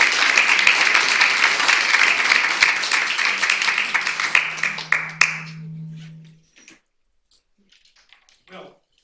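A lecture audience applauds to welcome the speaker, giving dense, loud clapping for about five seconds that thins to a few scattered claps and stops. A low hum runs underneath, and brief voices follow.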